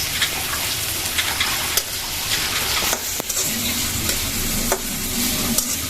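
Chili and onion hit hot oil in a pan for a loitta shutki bhuna, giving a loud continuous sizzle with occasional sharp ticks and scrapes of a spatula, and no one speaking.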